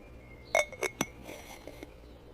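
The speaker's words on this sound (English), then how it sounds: "I tighten the lid on the jar." A lid tightened on a glass jar, three sharp close glass clinks in quick succession followed by softer scraping taps, with no talk.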